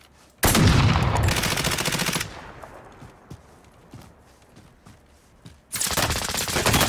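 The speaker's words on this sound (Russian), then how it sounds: "Они тут прям стреляют." Close, loud bursts of automatic gunfire in a video game, one long volley at the start, then quieter scattered shots, then another heavy burst at the end.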